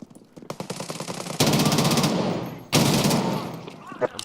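Rapid automatic gunfire from a first-person shooter video game, a steady stream of quick shots followed by heavier sustained bursts, loud and close with no talking.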